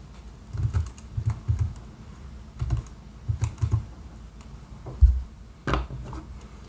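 Fingers tap out values on a computer keyboard in short clustered bursts of soft, close key clicks, separated by pauses, in a quiet room.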